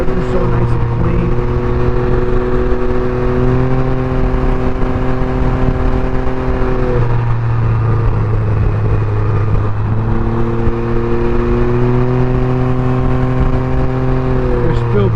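A Can-Am Ryker three-wheeled motorcycle cruises at night with a steady, loud engine drone whose pitch dips briefly and climbs back, heard alongside continuous talking.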